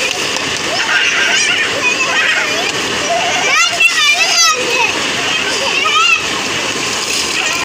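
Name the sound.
children splashing in cold water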